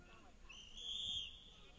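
A referee's whistle at an all-star hockey game, one faint, thin sustained blast in the distance.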